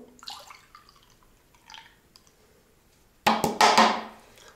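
Celandine juice pours briefly into a glass, a splashy burst after a quiet stretch with a few faint knocks and rustles.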